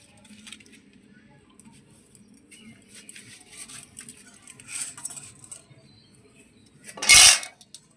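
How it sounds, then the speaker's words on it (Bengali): A metal kadai is set down on a home kitchen stove with one sharp clank near the end, after a stretch of quiet, soft background clatter. "এই যে আমি কড়াই বসিয়ে দিচ্ছি"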